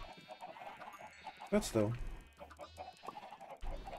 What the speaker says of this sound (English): We could always use more chickens.